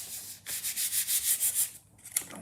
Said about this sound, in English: let me just give that a bit of a rub.